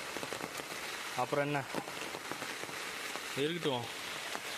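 Steady rain falls outdoors during a small grazing outing, a soft continuous patter under a person's talking, broken by two short drawn-out tonal calls.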